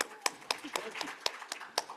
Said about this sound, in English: He speaks with an accent and they give him applause.